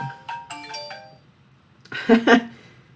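A phone ringtone plays as a short melodic chime, a few tones, then pauses before a louder two-part electronic ring near the end. A woman is on a live chat stream, and she remarks on the call.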